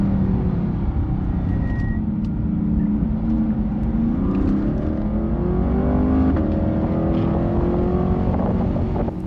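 A Chevrolet Corvette C8 accelerates hard down the straightaway at Motorsport Park in Atlanta, its engine a loud, steady roar with rising pitch heard from on board, with wind rush throughout and no talking.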